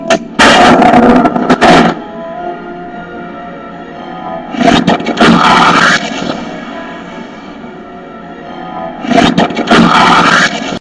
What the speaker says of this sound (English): Firing rockets.